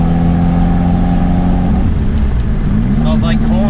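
A turbocharged Toyota Corolla drag car running on E85 revs hard as it pulls away, its loud engine note climbing in rising harmonic sweeps, close and continuous, with some voices nearby.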